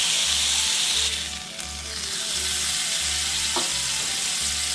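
A smashed beef burger patty topped with onions sizzling on a hot griddle, a loud, continuous close frying hiss with a low rhythmic hum underneath and one brief scrape.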